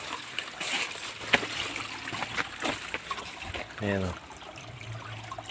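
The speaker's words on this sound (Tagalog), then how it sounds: "Malakas ang bukal nito." Water from a strong natural spring trickles and splashes steadily outdoors among pandan plants, heard close under a person talking briefly.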